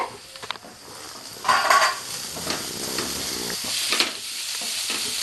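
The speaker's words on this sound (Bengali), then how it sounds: "এইভাবে নাড়াচাড়া করবো" Cauliflower samosa filling is stirred in a pan, with a steady frying sizzle under a few scraping strokes and a louder burst of sizzling partway through.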